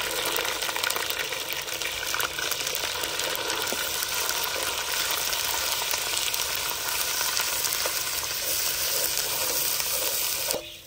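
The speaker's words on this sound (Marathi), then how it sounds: "आपलं वाटण परतून झालंय." Ground ginger-garlic masala paste sautés steadily in a pan for a Maharashtrian black mutton curry, a continuous, close, loud sizzle with faint stirring scrapes that runs unbroken until it drops away at the very end.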